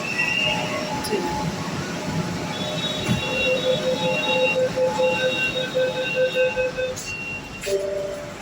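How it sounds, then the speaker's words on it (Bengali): A metro train pulls into City Centre 1 station in Salt Lake, with a steady rumble and high squealing wheel tones that rise and hold as it slows, over continuous platform noise. "এটা তো ট্রেনে চলে এসছে, এবার আমি উঠবো।"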